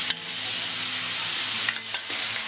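Chicken marinated in lemon juice, pepper and salt sizzles steadily in a hot pan while being stirred, a continuous loud frying hiss with a few brief scraping stirs near the end.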